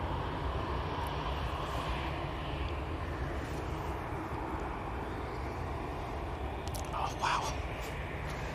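Jet engines of an EasyJet airliner at Manchester Airport make a steady, broad roar that fills the whole stretch at moderate distance, with people chatting quietly over it.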